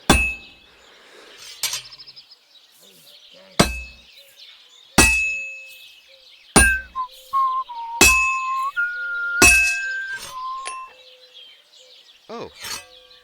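A sword blade is hammered at a forge in Kingdom Come Deliverance II: sharp metallic clangs ring out one at a time at irregular intervals, some followed by tinny pitched rings, with quiet gaps between strikes.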